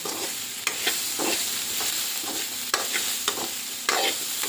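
A spoon stirs crispy potato fry with chopped coriander in a hot pan, making a steady sizzle broken by repeated scraping strokes and light knocks against the pan at a relaxed rhythm.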